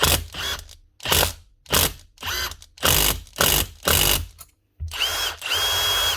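A repaired Milwaukee M18 FID2 impact driver hammers in short repeated bursts, each a loud rattling impact with a clear gap between them, ending in a longer continuous run.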